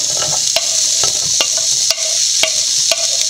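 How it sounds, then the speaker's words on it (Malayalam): Sliced onion in hot oil in a pan: a bright, steady sizzle close by, punctuated by sharp, evenly spaced spatula scrapes and taps as it is stirred, with no talking. "എണ്ണ ചൂടായിട്ടുണ്ട്. സവോള ഇട്ട് കൊടുക്കാം."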